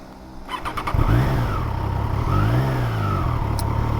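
A Triumph Trident 660 three-cylinder motorcycle revs and accelerates on a ride through the Peak District. The close engine note rises sharply and then holds a steady, loud drone.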